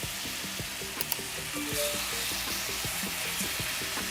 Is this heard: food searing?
yes